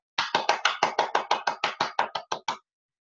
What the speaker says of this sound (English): You can only hear me clapping